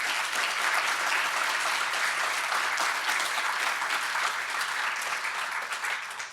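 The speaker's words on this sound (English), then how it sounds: "Round of applause to all of you." Sustained audience applause fills a closing address at an academic society conference, a dense, steady wash of clapping with no voices on top, easing slightly in the final moments.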